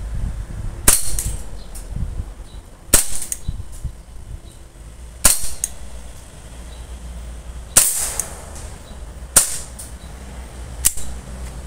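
An M92 Beretta air pistol fires six sharp, well-spaced shots at a round gin bottle about 3.5 meters away, each crack followed by a short impact ring, with quiet room tone between shots.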